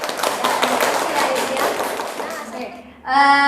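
A small classroom group briefly claps for a student during a midwifery lecture: a couple of seconds of quick, close, patting hand claps that fade before a short tonal sound cuts in at the end.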